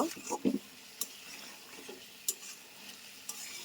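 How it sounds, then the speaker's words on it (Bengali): Desi chicken curry is sautéed in a pan, with a few quick spatula scrapes at the start, then a quiet sizzle broken by sharp metallic taps. "আমি এখন একটু কষিয়ে নিব"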